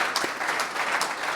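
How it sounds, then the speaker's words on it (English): Brief burst of audience applause welcoming Siemens Healthineers CEO Bernd Montag as keynote speaker at an LSI Europe meeting, a steady dense patter of hands at moderate level. "round of applause"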